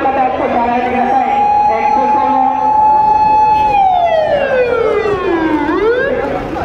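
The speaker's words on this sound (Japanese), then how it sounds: "救急車来ました。" An ambulance siren arrives at the scene of a shooting during a street political speech in Japan. It wails loudly and continuously, its pitch sliding downward as it draws near, while voices talk over it.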